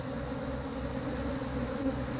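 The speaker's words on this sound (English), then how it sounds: "the bees are obviously irritated. They're running all over the place" Irritated honeybees swarming over a hive frame during a hive split, a continuous, close, steady droning buzz with no pauses.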